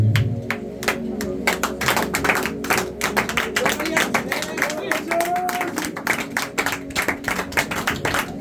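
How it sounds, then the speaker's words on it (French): A standing church congregation claps and cheers in acclamation to God, with loud rhythmic clapping, crowd shouts and music filling the room throughout. "Est-ce que tu peux te tenir debout et donner une profonde acclamation à notre Dieu?"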